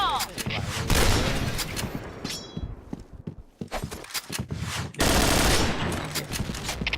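Rapid bursts of gunfire in the game Point Blank crackle loudly and repeatedly, with people talking over the shooting.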